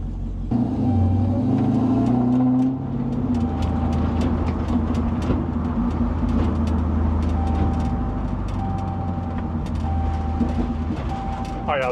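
A Dodge Hellcat with a ZF 8HP transmission out on a test drive gives a steady, close low engine and road rumble heard from inside the car, with a rising tone early on and a constant drone throughout.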